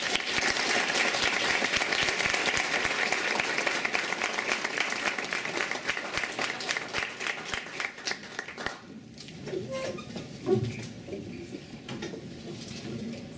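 A dense burst of audience applause welcomes a university guest speaker, loud and sustained for about eight seconds before thinning to scattered claps and a short murmur.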